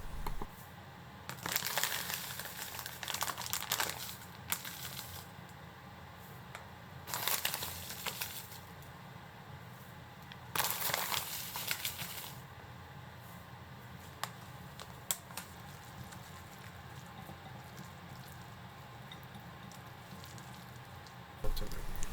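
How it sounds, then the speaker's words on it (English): Cooled onions being mixed with egg, breadcrumbs and milk in a bowl, faint soft squishing bursts recurring every few seconds against quiet background. "mix them in a bowl with the egg, breadcrumbs, and milk"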